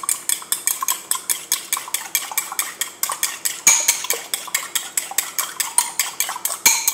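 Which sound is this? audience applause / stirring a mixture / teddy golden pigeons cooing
stirring a mixture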